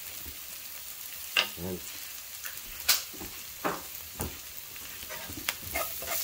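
Chicken adobo with black pepper frying in a pan produces a low steady sizzle, punctuated by several sharp stirring scrapes and clatters at irregular intervals, with a brief spoken word.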